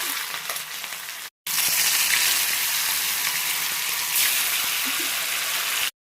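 Chicken 65 pieces deep-frying in very hot oil in a kadai, a loud, steady bubbling sizzle that cuts out briefly and then resumes even more fiercely, continuing alone without talk.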